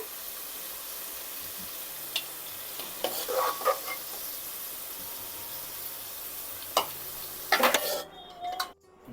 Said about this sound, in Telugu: కొంచెం ఫ్రై అవ్వాలండి ఇవి కొంచెం ఫ్రై అయ్యాయండి